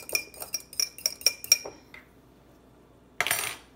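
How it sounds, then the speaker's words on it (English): A utensil clinks rapidly against a bowl while heavy whipping cream is mixed in with garlic and herb butter, a burst of sharp taps followed by a pause and one last brief rattle. "We're going to add a tablespoon of heavy whipping cream. That's about right. Just mix it a bit."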